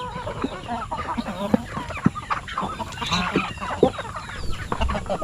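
Young chicks in a farm pen cluck and peep in overlapping bursts, a busy, close flock chatter with scattered louder calls and no voices.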